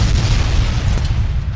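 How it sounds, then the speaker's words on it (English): A movie explosion special effect: a sustained, loud boom with heavy low-end rumble that rolls on without a break for over a second and a half, with no voices. "Suddenly, Chris's movie explosions started blowing up."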